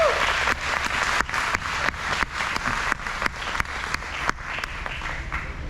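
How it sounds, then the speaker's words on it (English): A small group in a room applauds Kyle and Chloe Painter, moderate clapping with distinct close claps that thins out toward the end. "Let's give these guys a round of applause."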